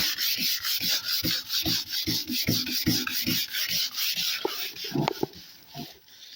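Hand sanding on the tailgate of a black Peugeot 306 while preparing it for paint: steady rhythmic back-and-forth rasping strokes, close and continuous, slowing and thinning out toward the end.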